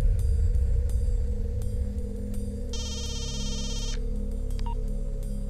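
Telephone ringback tone after dialing a number, a single electronic ring burst of about a second over a steady low hum and background music, fairly clear and close.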